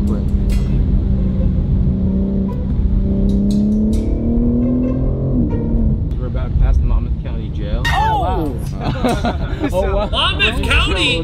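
A BMW M4 Competition pulls away under acceleration, its engine drone rising in pitch and then continuing through gear changes, loud and close inside the cabin, with people talking and exclaiming over it.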